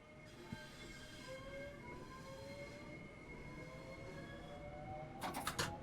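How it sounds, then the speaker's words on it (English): A Class 465 Networker electric train in Train Sim World 3 runs steadily, with rising whining motor tones over a rumbling rail bed and a burst of clattering wheel noise near the end, with no voices. "Let's pop the window open so I can hear the train."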